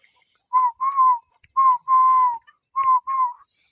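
A decoy spotted dove, a trained Phetchabun mountain-trap bird, gives soft cooing notes in short clustered phrases, fairly close and clear, with no talking.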